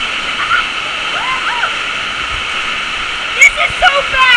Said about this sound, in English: right now we are on the lazy river